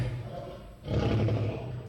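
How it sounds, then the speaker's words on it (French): Lions roar in a deep, rumbling burst that swells suddenly at mid-clip and stays loud and close to the end, following a quieter low growling murmur. "C'est les lions."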